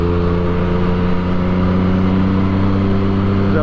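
A Yamaha MT-09 motorcycle engine drones steadily while riding, a loud, even mid-pitched hum with a constant tone and rushing wind, holding at cruising speed throughout.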